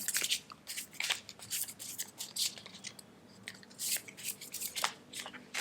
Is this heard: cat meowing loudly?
no